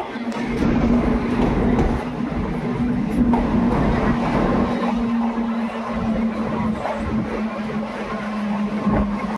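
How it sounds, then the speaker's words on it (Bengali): A train pulls into Bolpur Shantiniketan railway station with a loud, steady rumble of wheels and carriages and a sustained low hum close by. "বোলপুর স্টেশনে দেখতে পাচ্ছ আমাদের ট্রেন কিন্তু ঢুকছে"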